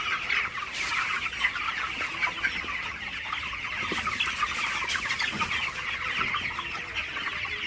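A shed full of broiler chickens at night gives off a steady dense chorus of clucking and chatter from many birds, continuous and fairly even in loudness, with no talk.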